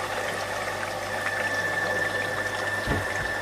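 Water rushes steadily through a filtration system strainer as it reaches full run with some air still coming out, a constant close hiss and hum with a faint tonal whine and a soft thump near the end.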